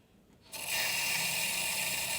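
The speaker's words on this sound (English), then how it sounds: "If I turn it, you'll let water going in the boiler as well." Water starts rushing through the filling tap into an Ideal Logic boiler, beginning as a faint click then swelling into a steady, loud hiss of flowing water that continues without pause.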